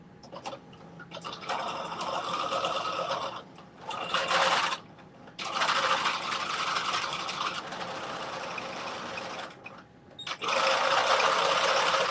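Sewing machine stitching folded fabric for a headband or mittens, running in several bursts of rapid whirring stitches separated by short pauses, close and clear.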